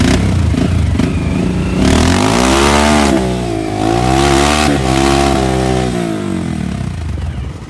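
A motorcycle engine revs loudly and close, the pitch climbing and falling through several swells of acceleration over a rough, clattering idle, with no talk over it.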